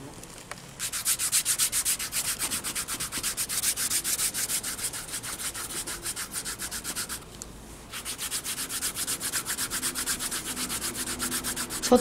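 Scrubbing a foot during foot care therapy at a spa, a close, steady rasping rub with rapid back-and-forth strokes, continuing almost unbroken apart from a brief pause, with no talking.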